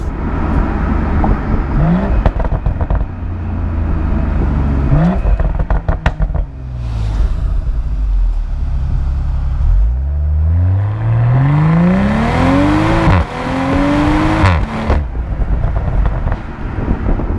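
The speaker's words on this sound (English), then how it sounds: "you can really hear the intake, the turbo spooling" A turbocharged car engine revs repeatedly, rising and falling in pitch, with whooshing intake and turbo whistle, loud and close with some wind noise.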